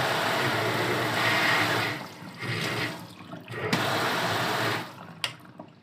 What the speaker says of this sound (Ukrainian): Ось так працює даний кран.